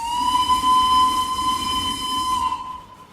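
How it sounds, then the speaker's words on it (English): A loud, sustained steam train whistle in a tunnel in the Roblox video game holds one steady tone with a hissy edge for about two and a half seconds, then cuts off. "Let's do the whistle in this tunnel."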